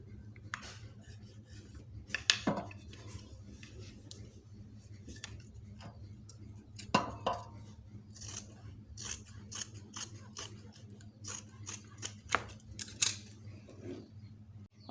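Scissors snip through fabric to cut out pattern pieces for a bomber jacket, giving a steady run of close, crisp cuts with small clicks and sliding noises in a quiet room.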